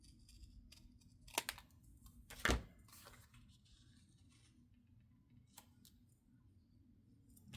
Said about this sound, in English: And I need to cut just a tiny bit off.